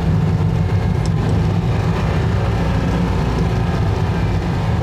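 A Citroen 2CV with an overhauled 652cc engine climbing a hill, a loud, continuous low engine drone with road rumble from inside the car, steady throughout.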